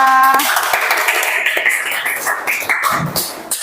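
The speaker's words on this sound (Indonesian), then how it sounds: "Kita beri tepuk tangan untuk kelompok 2" Students in a classroom at an Indonesian university clap for a group that has just finished presenting: a dense, close burst of hand clapping following a brief tone, tapering slightly toward the end.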